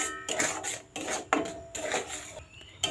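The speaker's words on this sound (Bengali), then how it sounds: "আর এটা কিন্তু নাড়তে থাকা লাগবে, নইলে কিন্তু কড়াইতে লাগিয়ে যাওয়ার পায়।" A spatula scrapes and stirs a thick mango barfi mixture of mango and sugar in a wok, a series of close rasping strokes in an uneven rhythm with brief pauses between them.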